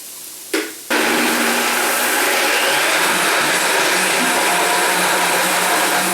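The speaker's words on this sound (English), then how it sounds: "So we're just going to let this blend up." A blender whirring an olive oil sauce, starting with a brief burst, a short pause, then a loud continuous high-speed roar that runs steadily to the end.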